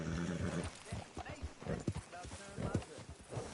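Horse hooves clip-clop in an irregular walking rhythm in Red Dead Redemption 2, fairly close and moderately loud, mixed with game ambience.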